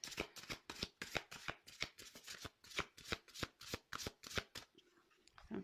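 Tarot cards are shuffled by hand in a quick, regular rhythm of soft riffling slaps, close and quiet, about a dozen strokes before a brief pause and a last rustle.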